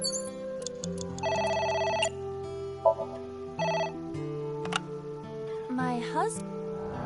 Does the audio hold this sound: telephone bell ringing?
yes